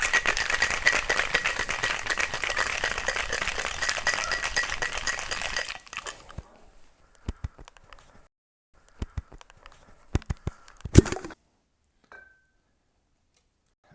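Ice cubes rattling hard inside a cocktail shaker while a daiquiri with rum and orange liqueur is mixed, a fast continuous clatter for about six seconds, then sparse clinks and knocks as the shaker is set down and opened.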